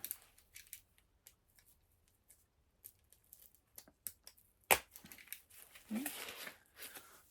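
Scissors snipping through comic packaging in quiet, scattered clicks and cuts, close and fairly faint, followed by a sharp snap and a burst of crinkling plastic.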